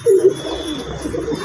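A wild pigeon gives a soft, low coo close by, a short burst at the start that trails off into quieter murmuring.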